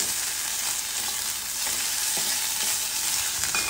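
Spices with ginger-garlic paste, turmeric and fenugreek powder fried and stirred in a kadai, giving a continuous close hissing sizzle with occasional soft scrapes of the spoon.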